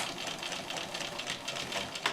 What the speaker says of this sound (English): don't forget to backstitch at the end